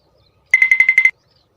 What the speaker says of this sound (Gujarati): ઊભો રહે મને ફોન લગાડવા દે